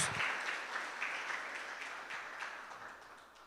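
A church congregation applauds Jesus at the close of a family talk, soft diffuse clapping from a crowd, distant and faint, gradually tapering off.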